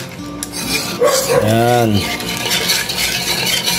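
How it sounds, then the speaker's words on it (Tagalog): Steady scraping and clinking as a spoon stirs pudding mixture in a pot, continuous and close, with someone speaking briefly over the stirring. "Kinakailangan walang tigil tayo sa paghalo."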